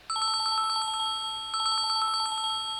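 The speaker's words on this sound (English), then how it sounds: "I don't really like chime." A chime-style phone ringtone plays loud and close, a bright repeating pattern of bell-like tones that holds steady with a brief break midway.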